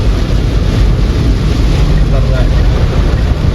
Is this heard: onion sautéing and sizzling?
no